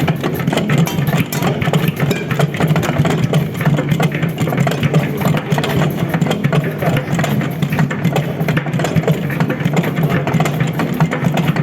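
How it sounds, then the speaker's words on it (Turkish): A mixer kneads stiff cookie dough in its bowl, giving a continuous loud motor drone with a dense, steady churning rumble that holds evenly throughout. "biraz zor yoğrulan bir kurabiye olduğu için biraz fazla sürecek yoğrulması"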